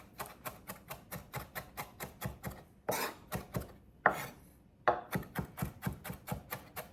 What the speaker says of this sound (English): Make sure you chop this up good